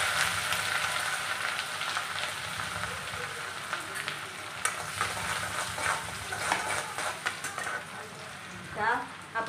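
Ginger garlic paste sizzles and fries steadily in a hot pan for pav bhaji, a continuous crackling hiss with occasional stirring scrapes, close and fairly loud throughout.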